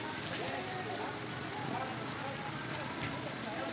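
Rain falls steadily, a dense, even hiss of drops spread across the whole clip, close and continuous without pauses or other distinct sounds.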